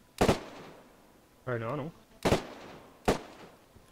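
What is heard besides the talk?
gunshots, from the video game DayZ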